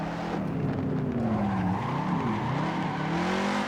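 An engine-swapped Toyota 86 / Subaru BRZ sports car, meant to carry a small four-cylinder, roars loudly and steadily, its pitch rising and falling as it revs and slides with tire squeal, close and continuous with no talk.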